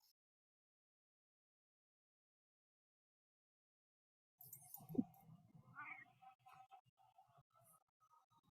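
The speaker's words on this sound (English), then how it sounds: "If you hear the odd meowing, that's my cat Simon." Pet cat named Simon meowing at home during an online music class, a few drawn-out mews and murmurs following several seconds of silence, fairly faint and close to the microphone.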